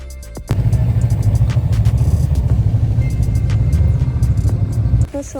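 Snowmobiles at a winter resort near Zakopane run nearby with a steady, rumbling engine drone that holds for several seconds before cutting off, with faint clicks over it.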